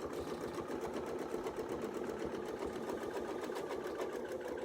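A sewing machine stitches a quilt design in a steady, unbroken run, its quick, regular needle chatter close and constant throughout.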